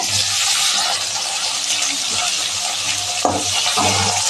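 Onions browning in a pan as tomatoes go in for a brinjal palya, a steady loud sizzle with a brief wet stir and clatter near the end.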